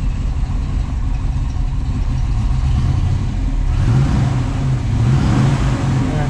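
A restored 1970 Ford Mustang Boss 302 Sports Roof with its V8 engine idles steadily and loudly up close, a continuous deep rumble with no talking.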